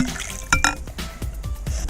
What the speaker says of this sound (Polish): Dolej jeszcze troszkę wody.